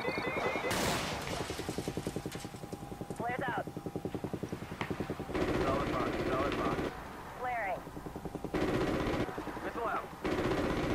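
Bursts of rapid gunfire in Call of Duty: Ghosts rattle repeatedly, mixed with a steady thumping helicopter drone, with a voice talking over parts of it.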